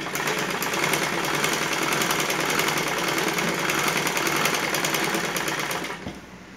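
A sewing machine stitches trousers in one steady, loud, fast mechanical run that lasts several seconds and then stops abruptly near the end. It is close up with no talking.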